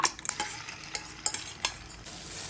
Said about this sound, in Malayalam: അപ്പോൾ 3 മുട്ട ഒന്ന് അടിച്ചിട്ട് നമ്മൾ ഈ എണ്ണയിലോട്ട് ഒഴിച്ച് കൊടുക്കുകയാണ്.